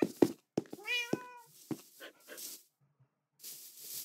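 A cat meows inside a video game, a single drawn-out, rising-then-falling call standing out clearly, framed by a few short scattered sounds and brief gaps of silence.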